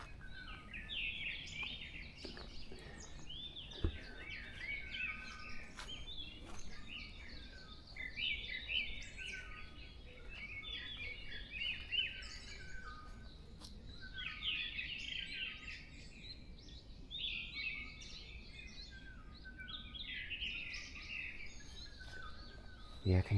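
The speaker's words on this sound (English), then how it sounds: "Yeah, I can hear quite a lot of birds now in the distance." Many songbirds of several species call and sing far off across a Korean forest on Bongseosan, a steady layered chorus of thin chirps and trills that never comes close.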